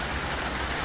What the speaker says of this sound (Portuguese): Batendo ponto madrugada, chuva mais forte, hein?